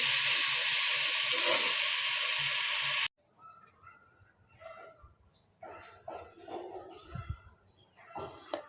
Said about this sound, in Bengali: এখন এগুলো তেলের মধ্যে ভেজে নেব একটু